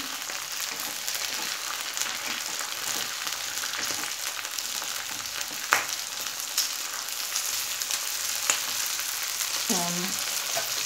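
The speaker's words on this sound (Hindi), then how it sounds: "यानी अगेन 20 से 30 सेकंड के लिए पोटैटोज़ के साथ मटर को फ्राई कर लेते हैं" Potatoes and peas frying together in a pan for a drumstick-flower vegetable dish, a steady moderate sizzle with occasional stirring clicks and a brief voice near the end.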